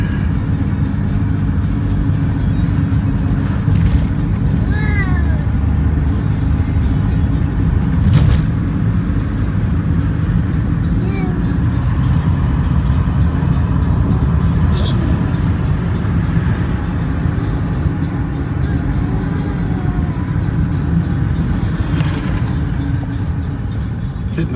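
A 2011 Jeep Liberty driving over an uneven road, a steady loud rumbling drone of engine and road noise with occasional knocks and faint squeaks from the cabin.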